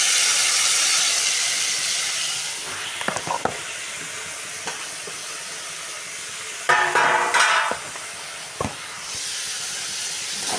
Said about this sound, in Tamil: கொஞ்சம் நேரம் அப்படியே வதங்கட்டும்